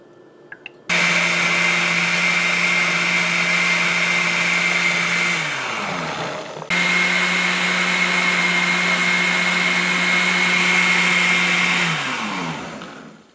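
A countertop blender whirs loudly while making fruit smoothies with blueberries and strawberries, running steadily for about five seconds, winding down, then starting again for another long, even burst before slowing to a stop.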